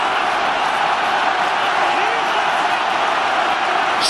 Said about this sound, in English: Crowd absolutely roaring.